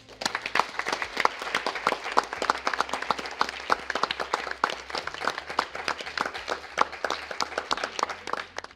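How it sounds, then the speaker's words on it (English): An audience applauding at the Summer University of the Normandy Chair for Peace, a sustained round of dense, steady clapping from a crowd close by. "I think we should all give a round of applause for this whole event"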